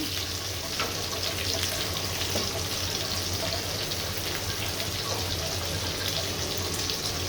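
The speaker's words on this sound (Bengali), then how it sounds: "চুলায় আমি পেঁয়াজ, রসুন, চিংড়ি মাছ দিয়ে ভেজে নিচ্ছি।" Onion, garlic and shrimp fry on a stove in a steady, dense crackling sizzle like light rain, continuous and even at close range with no pauses or talk.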